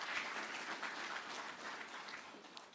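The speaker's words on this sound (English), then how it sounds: "Clap for him" An audience at a university innovation exhibition week claps for a winning team. The applause is moderate and somewhat distant, a steady patter that slowly thins out toward the end.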